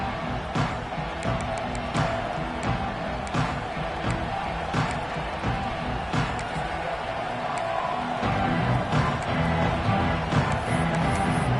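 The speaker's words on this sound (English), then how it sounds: "This crowd ready to make its presence known." Large football stadium crowd at an Alabama game roars steadily throughout, a dense continuous wash of cheering with scattered shouts and sharp bangs, swelling slightly louder near the end.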